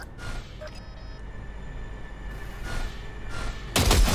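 A single gunshot fired in the Cyberpunk 2077 video game lands as one sharp, loud burst near the end, after quiet game ambience with soft background tones.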